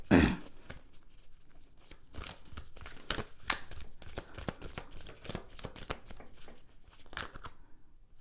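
Tarot cards being shuffled by hand, a run of quick papery riffles and flicks in irregular bursts, close and crisp with no talking.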